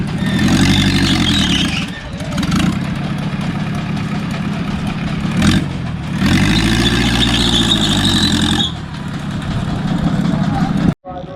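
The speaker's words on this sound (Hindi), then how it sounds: "ये गाड़ी का इंजन से देखो चला रहा है झूला।" A vehicle engine drives a fairground swing ride at a fair in India, a loud steady rumble with a rising and falling whine that cycles twice and then cuts out abruptly near the end.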